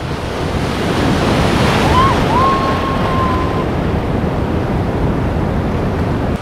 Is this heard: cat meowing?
no